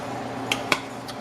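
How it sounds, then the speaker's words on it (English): Chicken meal ingredients mixed in a big pot, two or three brief clinks of a utensil against the pot in a quiet kitchen. "So we're just gonna mix everything together."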